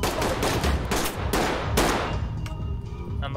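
Gunfire in a Ready or Not tactical shooter, several loud, close shots and bursts in quick succession, then dying away into a quieter tail.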